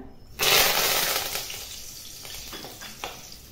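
Curry leaves drop into hot oil and burst into a loud, bright crackling sizzle that slowly settles into a softer fry with a few pops, up close.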